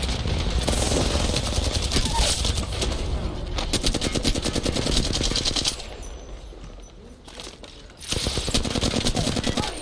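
Apex Legends gunfire rattles in loud, rapid automatic bursts up close, broken by a short lull before the shooting resumes.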